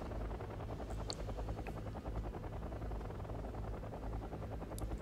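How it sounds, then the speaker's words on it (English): Military helicopters in the strategy game Wargame Red Dragon give a steady, fluttering rotor drone that holds evenly throughout, moderately loud with no voices. "The helicopters are pushing up."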